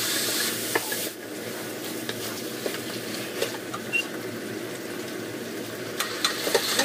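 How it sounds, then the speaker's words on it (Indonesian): Dried wood ear mushrooms stir-fried in a pan for a Chinese New Year dish in Hong Kong, a steady close sizzle with light scraping and tapping as the mushrooms are tossed and stirred. "jamur kuping, kita aduk-aduk,"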